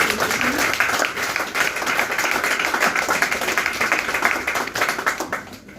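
A church congregation applauds together during a service, a dense, steady wash of clapping that fills the whole stretch at a loud, even level.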